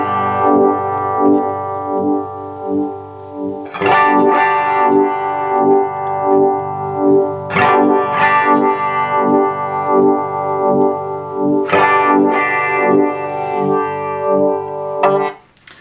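Sustained electric guitar chords ringing through an Earthquaker Devices The Depths clone modulation pedal, a steady pulsing wobble whose depth shifts as the throb control sweeps from maximum to minimum and strings are restruck every few seconds.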